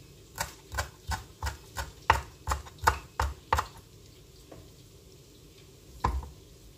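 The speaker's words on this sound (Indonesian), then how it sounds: "Kemudian daun seledrinya juga akan saya iris-iris." A knife slicing through celery leaves on a cutting board, a run of about nine crisp, evenly spaced chops followed by a pause and one more cut, close and clear with no talking.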